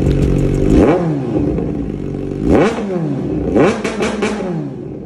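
A 400cc two-cylinder naked motorcycle engine revs hard three times, each throttle blip climbing and falling back to a rumbling idle, loud and close.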